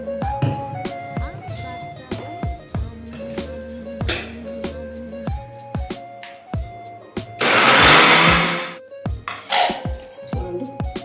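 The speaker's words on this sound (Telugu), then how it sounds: "చూడండి, ఇలా మెత్తగా మిక్సీ వేస్తాను." A kitchen mixer grinder blends a curry masala of onion, ginger, garlic and tomato in one loud whirring burst of about a second and a half. Rhythmic background music plays around it.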